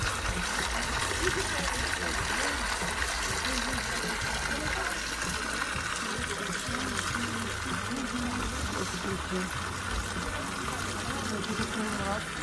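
Steady rushing flow of spring water, continuous and fairly loud throughout, with a gurgling, splashing texture and no clear pauses.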